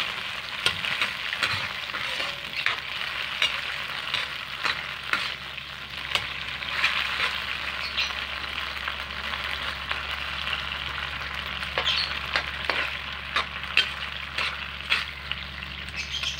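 Canned sardines sizzle and fry in a pan with sautéed ginger, garlic and onion for a Filipino dish, a dense continuous crackle with repeated stirring scrapes, close and fairly loud.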